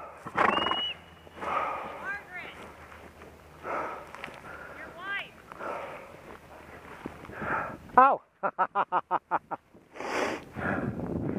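Mare whinnying at an outdoor riding event, a clear neigh late on with a rapid run of pulsing calls, amid hoof sounds and nearby talking.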